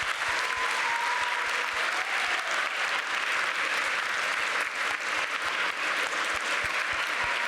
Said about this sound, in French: mais un tonnerre d'applaudissements.